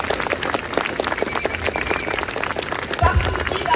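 An outdoor crowd at a national march for peace and freedom applauds suspended caregivers. Many hands clap in dense, scattered bursts that carry on steadily, with a few louder thumps near the end.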